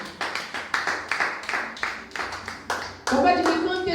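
A church congregation claps in quick, loud rhythmic bursts, then breaks into a denser swell of applause and voices near the end.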